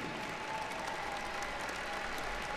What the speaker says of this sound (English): let's give one final round of applause to your family, friends, faculty, and university staff